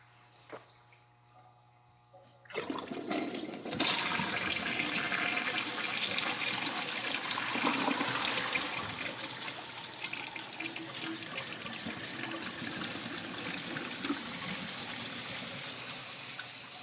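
A household toilet being flushed as part of a repeated test for a stoppage, a loud rush of swirling water starting suddenly after near silence and continuing steadily as the bowl drains and refills, with no voices.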